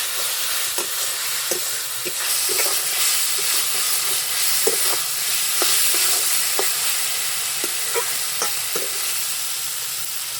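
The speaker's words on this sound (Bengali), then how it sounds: "তা ভালো করে মশলার সাথে মিক্স করে নিব, ভালো করে কষিয়ে নিব মশলার সাথে" Fried okra and pointed gourd are stir-fried with spices in a pan: a steady sizzling hiss runs throughout, punctuated by irregular clicks and scrapes of a spatula stirring, close and fairly loud.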